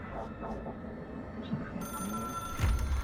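A telephone rings inside the video game Control, a bright electronic ring that enters partway through over a low ambient rumble and stays fairly loud to the end.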